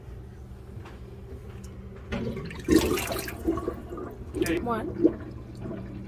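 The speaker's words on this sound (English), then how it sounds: "the water fighting each other to go down the drain" Water gurgles and sloshes as it drains down a kitchen sink, soft irregular glugs and splashes up close, with a brief spoken word partway through.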